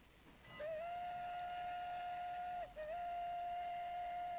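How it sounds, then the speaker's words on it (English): A single clean steam locomotive whistle in the video game Transport Fever sounds a long, steady tone, breaks briefly, then resumes and holds, fairly quiet over a low rumbling background. "listen to that steam horn"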